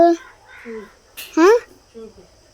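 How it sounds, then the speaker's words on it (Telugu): A few harsh crow caws ring out, separated by short pauses, with a voice speaking briefly in between. "కాకులు"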